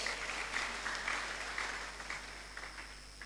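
Audience applause fills a large, nearly full hall at a development and economic summit, a steady wash of many hands clapping continuously throughout, moderately distant and unbroken.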